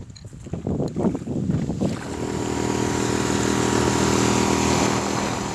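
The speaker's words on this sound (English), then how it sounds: "This Suzuki 5 horsepower is the lightest 5 horsepower currently on the market" A Suzuki 5 horsepower outboard motor on a boat starts with uneven sputters, then settles into a steady, loud running drone with wind rushing past.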